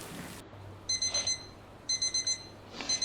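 Electronic alarm clock ringing in a bedroom in the morning, short bursts of rapid high beeps repeating in groups of four with brief pauses between, fairly quiet and alone.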